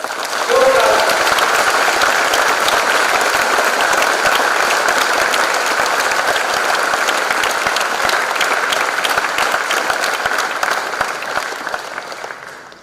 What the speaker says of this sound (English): they deserve a big applause from all of you guys